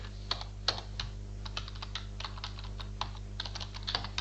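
Code being typed on a computer keyboard: quiet, irregular key clicks in quick bursts over a low steady hum, with no talking.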